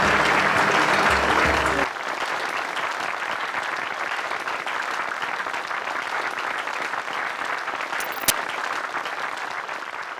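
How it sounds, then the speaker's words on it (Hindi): A studio audience on a Hindi television show breaks into strong, continuous applause, dense and steady from start to finish, after a short stretch of louder sound at the very beginning. "जोरदार तालियां प्लीज।"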